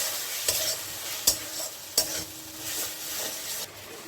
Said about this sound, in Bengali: আর মশলার সঙ্গে নারকেলটাও ভাজা হয়ে যাবে